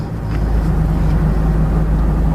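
Car engine idling steadily with the air conditioning running, a continuous low hum and fan-like hiss holding level throughout, close and loud with no talk.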